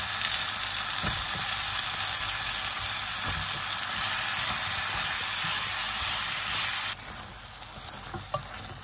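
Bottle gourd sautéed with shrimp in a pan gives a soft, steady sizzle and hiss, fairly quiet and continuous, with a few faint clinks, dropping a little in level near the end.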